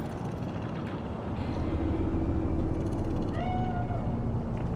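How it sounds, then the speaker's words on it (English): A cat in the video game Cyberpunk 2077 gives a faint, drawn-out meow near the end, half buried under a steady low hum of city ambience. "Do you see it? That cat?"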